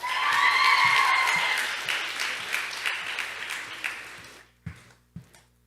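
A school chapel audience applauds award-winning students, with loud sustained clapping and a few whoops at first that gradually thin out and fade into scattered final claps separated by near silence.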